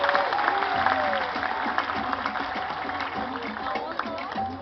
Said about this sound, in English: let's give it one more big round of applause for Odin